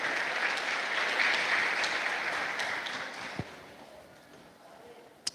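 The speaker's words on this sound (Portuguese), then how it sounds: "Aplauda a palavra de Deus." A church congregation claps together in a dense burst of applause that gradually fades, with a couple of sharp knocks near the end.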